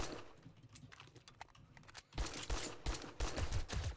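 Enemy gunfire in the survival video game 7 Days to Die, with dense overlapping bursts of shots that start sparse and grow louder and heavier in the second half, and no voices.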